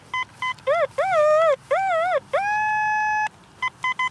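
A Fisher F75/T2 metal detector sounds over a buried target in grass at a demolished house site: a series of warbling electronic beeps rising and falling in pitch, one long held tone, then short clipped blips, loud and clear.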